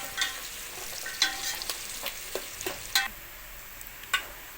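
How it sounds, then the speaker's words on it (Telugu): Onions frying in a pan for chicken biryani, cooking down until golden brown, with a steady close sizzle broken by irregular stirring clicks and scrapes of a utensil. "బాగా గోల్డెన్ బ్రౌన్ కలర్ వచ్చే వరకు ఆనియన్స్ ఫ్రై చేసుకుందాం"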